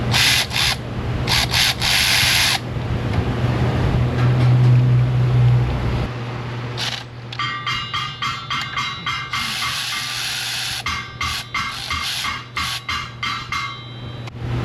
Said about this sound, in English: You'd think with a 2-foot long ratchet, these little 10mm head bolts would break loose pretty easy.